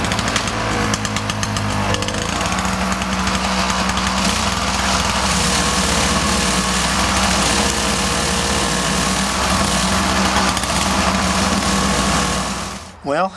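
A Toro snowblower engine running steadily after a carburetor cleaning, a loud, close small-engine drone with a constant pitch that cuts off abruptly near the end.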